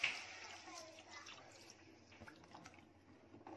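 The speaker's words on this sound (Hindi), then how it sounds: "अब इसमें पानी जा रहा है।" Water is poured into a pot while yellow khichdi is being cooked, giving a soft, continuous splashing trickle that stays faint and close for a few seconds.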